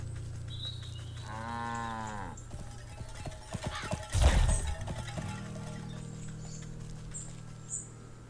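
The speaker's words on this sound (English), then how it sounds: "The cow should be right near the portal" Cow mooing in the video game Wytchwood, a single long, low moo lasting under a second, followed by a thud and clatter over a quiet, steady background hum.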